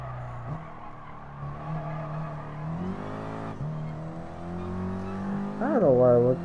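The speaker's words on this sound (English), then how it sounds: "Yeah, this car sounds good." A racing car engine in Gran Turismo Sport revs steadily with rising pitch sweeps, then whines sharply higher near the end, loud and continuous.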